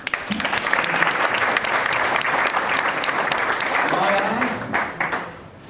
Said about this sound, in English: please give Derek a warm round of applause